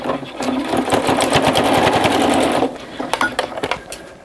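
A sewing machine basts the pleated layers of a fabric face mask, running in a loud steady whir for about two and a half seconds, then slowing into a few separate stitch bursts.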